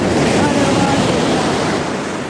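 Loud, steady sea surf washes near a seaside Kalari training ground, a continuous roar of breaking waves mixed with wind buffeting the microphone.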